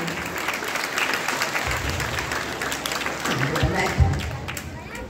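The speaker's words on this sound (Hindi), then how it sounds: "मयंक के लिए जोरदार तालियां।" Students at a school yoga day bootcamp give loud, sustained applause for a child receiving a gift, many hands clapping together with voices talking through it.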